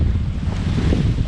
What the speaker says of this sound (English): it's blowing, it's windy out here, it's pretty rough